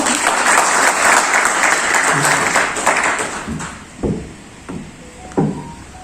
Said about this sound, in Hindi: एक बार नारायण जी के लिए जोरदार तालियां।